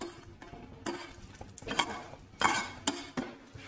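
Dried chillies and whole garam masala of cardamom, cloves and cinnamon are sautéed in hot oil, with a metal utensil scraping and clinking against the pan in irregular knocks over a faint frying hiss.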